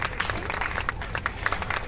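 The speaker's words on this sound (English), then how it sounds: "Please give yourselves a round of applause." Audience applause at a cystic fibrosis fundraising gala dinner, a steady wash of many hands clapping with scattered sharper claps standing out, moderately loud and continuous.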